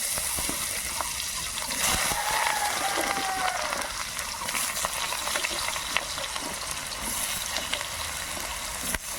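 Cut potatoes dropped into hot oil in a pan, bursting into a loud, continuous close sizzle with bubbling and occasional stirring, holding steady throughout.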